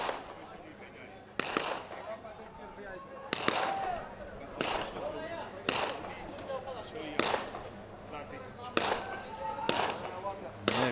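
Pistol shots at targets during a SWAT shooting challenge ring out as about ten sharp reports at irregular intervals of roughly a second, under a commentator talking throughout.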